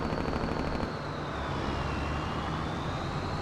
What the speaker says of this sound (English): Oh, it's got a Jake brake.